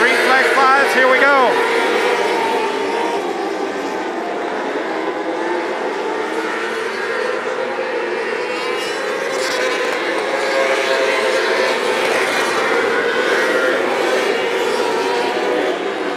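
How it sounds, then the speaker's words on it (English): A pack of outlaw micro sprint race cars roars past at Macon Speedway in a loud, sustained engine drone, with an announcer talking over the din. "And here comes Joby Miller and the freight train of micro sprints of POWRi. Green flag flies, here we go"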